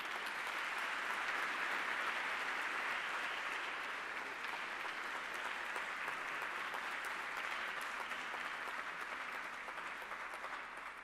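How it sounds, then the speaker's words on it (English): An audience at the Pharos Summit 2022 applauds the Prime Minister of Greece, a dense, steady wash of clapping that holds for about eleven seconds and eases slightly toward the end. "Please, a round of applause for the Prime Minister of Greece."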